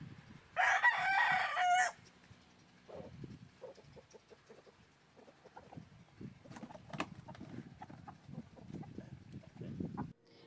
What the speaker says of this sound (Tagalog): Inilagay na nga nila sa kahon isa-isa ang mga manok.